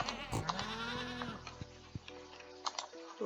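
A goat in the video game Stardew Valley bleats in a wavering, nasal cry, followed by a few short game clicks and chimes, close and clear.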